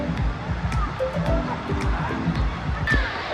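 Waves in a crowded indoor water park wave pool: continuous churning, splashing water with a broad wash of noise and scattered distant voices, loud and close.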